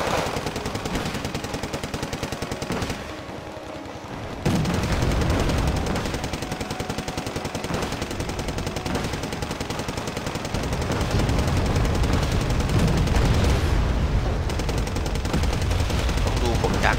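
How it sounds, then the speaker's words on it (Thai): Continuous dense gunfire and distant explosions in a large Wargame: Red Dragon 10 vs 10 battle on the Gjoll map, a loud sustained battle din. "อัลฟาโฮเทลนี่คงยิงกันทั้งเกมแน่นอนครับ"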